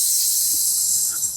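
A voice imitates the sizzle of frying bacon with a steady, loud, hissing breath held through the whole moment.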